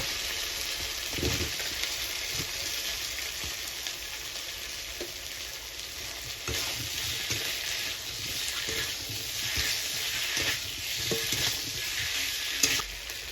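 Steady sizzling of vegetables, including boiled banana and papaya, frying in hot spiced oil for shukto, with occasional scraping and clinks of a spoon stirring the pan; no talking.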